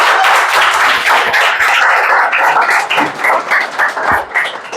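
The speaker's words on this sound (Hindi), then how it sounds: "तो जोरदार तालियों के साथ" A room of people applauding to welcome Ganesh, newly selected as a GST inspector, dense continuous clapping close and loud, thinning out toward the end into scattered claps.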